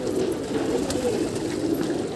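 Pigeons coo softly and steadily on a rooftop as one lands, a low murmuring call with faint brief flutters and clicks over quiet background.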